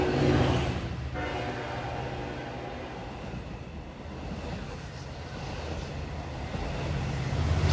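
Commuter train 564 from Penn Station to Oyster Bay rolls past on track 1 at New Hyde Park during the evening rush. A long horn blast comes first, followed by a steady rumble of wheels and wagons at moderate distance.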